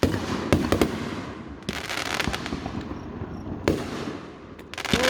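A fireworks show pops and booms in a string of sharp bursts, several loud bangs spaced a second or two apart with crackling trails between them, heard outdoors at moderate distance.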